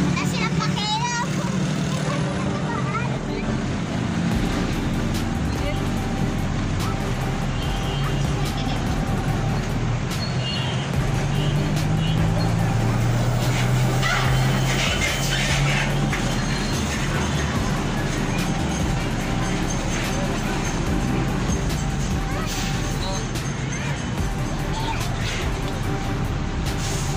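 Dense road traffic with buses and cars rumbling steadily along a busy street, a continuous loud wash of engine and tyre noise under ongoing conversation.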